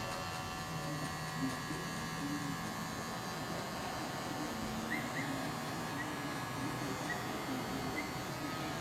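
Barber's electric hair clipper buzzing steadily through a taper haircut, a continuous mid-level motor drone with faint mains hum and no talk over it.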